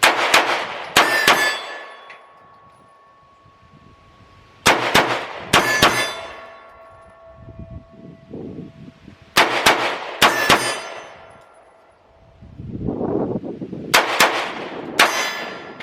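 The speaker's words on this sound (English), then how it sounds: "Now I drop this second shot as usual." Pistol shots from a CZ P01 ring out at a steel target in spaced clusters of two or three, each sharp crack followed by a bright metallic clang and ringing decay, close and loud with quiet gaps between strings.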